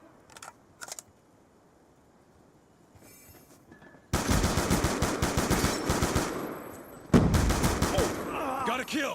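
Video game combat with quiet clicks and mechanical handling at first, then sustained loud automatic gunfire in dense rapid bursts, swelling again with a fresh volley near the end.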